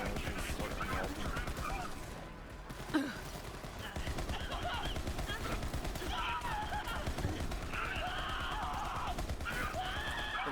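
Lyuda rifle firing in the video game Borderlands 3, rapid continuous shots rattling under steady talk, with a brief dip and a sharp crack midway.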